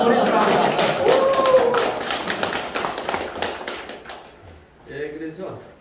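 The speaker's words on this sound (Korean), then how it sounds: "박수 한번" A civic group welcoming a visiting four-term National Assembly member from Yangju responds with scattered, uneven clapping that thins out and fades, while a voice talks over and after it.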